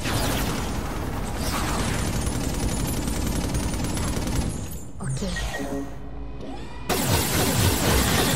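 A gun turret in the inFamous First Light game fires sustained rapid bursts, loud and dense with mechanical clatter and impacts, pausing briefly before the barrage resumes.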